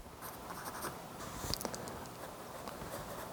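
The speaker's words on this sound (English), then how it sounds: "You don't have to apply as much pressure to make a dark line" A pencil draws a darker line on sketchbook paper, making a quiet, continuous scratchy scraping with short stroke bursts, close up and heard alone with no talk.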